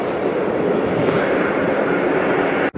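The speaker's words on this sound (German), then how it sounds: "die Eisenbahn, der ständige Begleiter hier." A train passes on a railway in Saxon Switzerland, a loud, close, steady rolling rumble that holds for nearly three seconds before cutting off abruptly.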